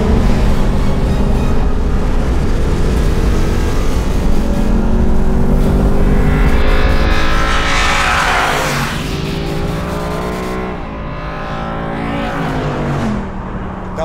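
A Mercedes-AMG bakkie races and burns rubber, its engine roaring loudly and revving through rising and falling pitch sweeps alongside a second engine, then fading slightly toward the end.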